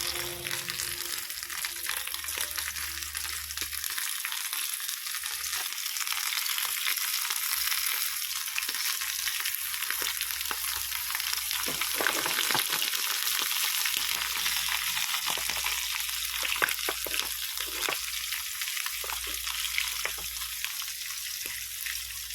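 Dried fish (tuyo) fries in a pan with a steady, loud hiss and crackle of hot oil, sizzling continuously throughout with occasional sharper pops and no talking.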